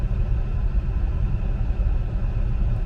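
A 2013 Chevy Equinox bought burnt from a salvage auction, heard from inside on a test drive as a steady low engine and road rumble with no talking.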